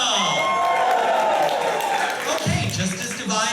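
A live audience at a Broadway-style musical show in Fuquay-Varina, North Carolina cheers and whoops loudly and steadily throughout, with a brief dip and a fresh surge of shouting near the end.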